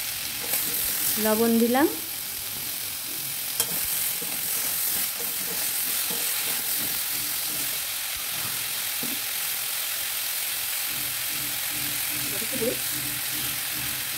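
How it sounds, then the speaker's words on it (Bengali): Fish with tomato frying and being stirred in a pan in a home kitchen, a steady sizzle running throughout with occasional scraping, while someone speaks briefly over it. "টমেটো দিয়ে দিলাম, দিয়ে এবার আর একটু নেড়ে নেব।"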